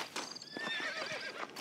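A horse in the video game Red Dead Redemption neighs in a short, high whinny, moderately close, with faint hoof sounds underneath.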